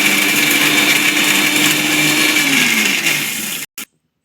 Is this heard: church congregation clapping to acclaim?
no